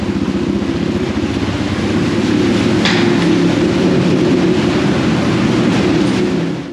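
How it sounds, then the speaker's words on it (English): Suzuki DR650 dual-sport motorcycle riding over rocky terrain, its foot peg and skid plate striking a rock in one sharp knock above a continuous, loud engine rumble. "I didn't see that rock, but it hit my foot peg and my skid plate"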